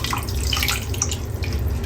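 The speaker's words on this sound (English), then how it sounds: "So I'm going to just drain that water a little bit into this" Saved salty vegetable cooking water is poured into a frying pan for lauki kofta, a close, continuous splashing trickle lasting a couple of seconds.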